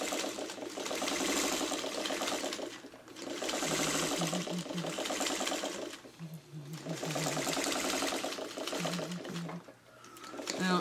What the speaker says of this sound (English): you're just going to do that 1/8, 1/16 top stitch.